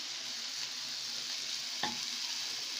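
Onion sizzles steadily in oil in a pan, a continuous close hiss broken by a brief scrape as it is stirred, with no one speaking.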